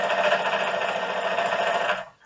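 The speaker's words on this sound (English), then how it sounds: "Again, sewing bit by bit until I get there" A sewing machine runs continuously stitching binding onto a quilt, a fast buzzing whir that holds steady before cutting off near the end.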